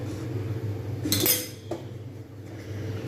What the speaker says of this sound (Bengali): কড়াটা বেঁকে গেছে তাই আমি এটা একটু সোজা করে বসিয়ে দেবো